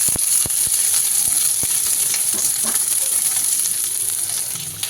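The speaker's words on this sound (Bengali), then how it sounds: "এবার এটাকে একটু লাল লাল করে ভেজে নিতে হবে" A whole large onion frying in a pan until reddish, giving a steady close sizzle and hiss with a few sharp spatters.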